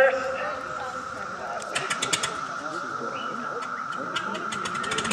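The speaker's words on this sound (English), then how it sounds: "there goes the Fokker D7. Engine purring the life." A vintage Fokker D.VII biplane engine drones steadily at a June 2013 air show at Old Rhinebeck Aerodrome, a continuous mid-distance hum with faint bird chirps and outdoor ambience around it.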